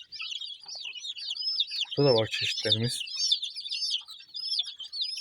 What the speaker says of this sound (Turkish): Köy civcivi var yine dediğim gibi.